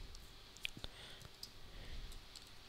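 Faint, sparse mouse clicks during work in Android Studio, a few sharp single clicks spread over a quiet background.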